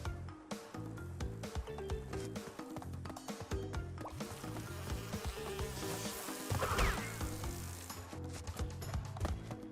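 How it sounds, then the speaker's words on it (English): Bees buzz around their hives in the Crash Bandicoot N. Sane Trilogy game, a persistent insect drone mixed with busy, clicking game effects that keeps up throughout. "Don't stand too close to the hives either, because then the bees will spawn."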